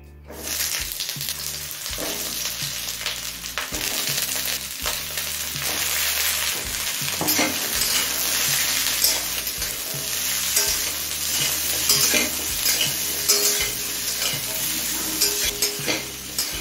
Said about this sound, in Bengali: এবার এই সবজিগুলোকে মিডিয়াম ফ্লেমে কিছুক্ষণ ভেজে নেব